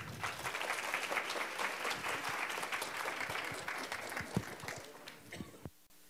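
Sustained applause from a live audience greeting chef Frank Giglio at a talk on traditional foods, a steady dense clapping that fades out near the end.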